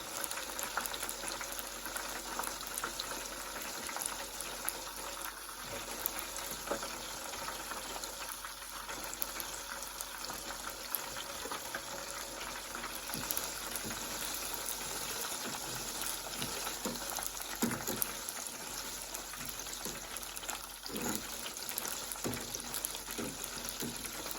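Spinach flash-frying in hot oil in a big pot gives a steady, dense crackling hiss that holds evenly for the whole stretch, close and fairly loud, with no talking.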